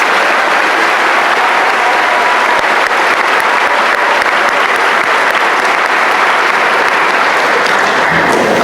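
Loud, sustained applause from a large crowd at a high school graduation ceremony, dense steady clapping that fills the whole stretch without pause.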